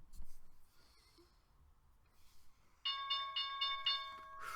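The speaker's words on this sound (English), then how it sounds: "There's the bell." A stock market opening bell rings as a rapid series of bright metallic strikes in the second half of the clip, loud and close, after a quieter stretch of faint breathing and low room noise.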